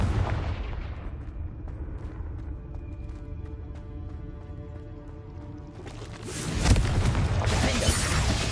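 Confringo blasting spell explosions in Hogwarts Legacy, dense booming blasts with crackling debris that run throughout, swelling to a loud burst near the end.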